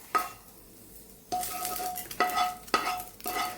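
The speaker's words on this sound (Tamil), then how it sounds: "அடுத்தது இப்போ நம்ம தாளிச்சதெல்லாம் இதில் கொட்டிடுவோம்" Fried tempering is tipped onto cooked kodo millet rice and stirred through, with spoon scrapes and clinks against the vessel coming in several distinct strokes, close up and with no one talking.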